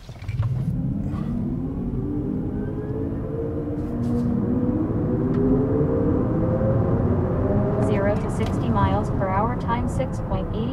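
Hyundai IONIQ 6 electric car accelerating hard from 0 to 100 km/h, a steady low rumble of tyre and road noise building inside the cabin, with a faint rising whine toward the end.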